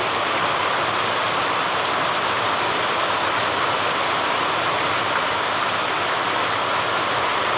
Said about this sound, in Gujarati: આજ આખા દિવસનો વરસાદ પણ શરૂ જ છે એવો વરસાદ વધતો જાય છે